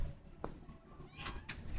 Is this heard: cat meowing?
yes